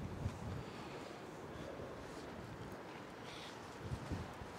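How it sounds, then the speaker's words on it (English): Gusty night wind in Queensferry, North Wales buffets the microphone in a steady low roar, with a few stronger gusts thumping through. "because it's quite windy tonight"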